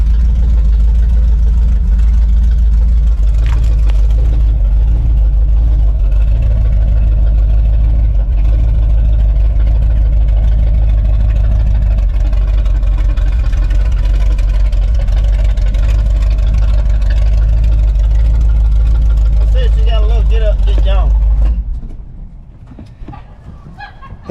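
A 1976 Chevy K10 shortbed pickup, revived after ten years abandoned, idles and crawls around a yard with a loud, steady low engine rumble that cuts off near the end, leaving a few faint bird calls.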